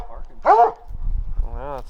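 A coon hunting hound barking during a night hunt in southern New Mexico, one loud close bark followed by a drawn-out howl, with a person talking over it.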